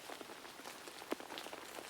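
Soft rain patters over a forest in light, scattered drops and faint ticks, with one slightly sharper drip standing out in a quiet, calm scene.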